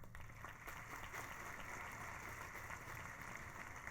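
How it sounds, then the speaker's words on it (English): An audience at a McAllen school district event applauds the school board: continuous, even clapping heard from a distance, soft and unbroken from start to end. "let's give our board a collective round of applause."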